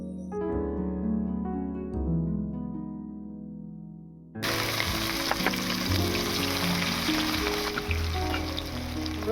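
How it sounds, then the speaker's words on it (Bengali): Chopped onion drops into hot mustard oil seasoned with dried red chilli and kalonji, and a loud, dense sizzle erupts midway. It continues steadily after a quieter stretch with faint music underneath. "ফোড়নটা ভাজা হয়ে গিয়েছে, এবারে দিয়ে দেব পেঁয়াজ কুচি"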